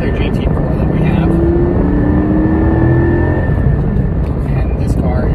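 A sports car engine drones steadily and loudly throughout, with a rising whine and no breaks, as though passing at speed close by.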